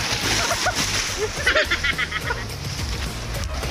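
Sea waves splash and wash over rocks along the Patar shore in Bolinao, Pangasinan, a steady loud rush of spray and water close by, with wind noise throughout.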